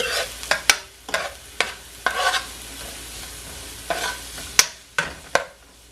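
Vegetables sweating in a pot for callaloo spinach rice, a soft sizzle punctuated by sharp, close stirring knocks and scrapes of a spoon against the pot, irregular and repeated.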